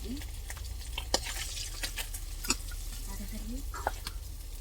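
Kantia fish fries in a small amount of oil, a constant close sizzle with sharp occasional clicks and pops, while a voice murmurs faintly underneath.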